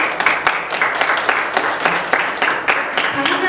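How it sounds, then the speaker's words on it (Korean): Audience applause at a forum as a speaker is welcomed, a steady wash of many hands clapping with scattered louder claps, and voices faintly present underneath. "박수 부탁드리겠습니다"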